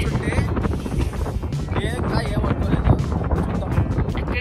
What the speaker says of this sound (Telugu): చలి అయితే బీభత్సంగా ఉంది, గాలి చలి అన్ని బీభత్సంగా ఉన్నాయి